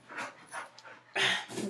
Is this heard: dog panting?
yes